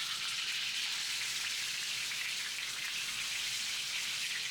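Rolled pork belly sizzles in a hot pan, a steady, bright, crackling hiss that holds evenly from start to finish, close and moderately loud with no voices.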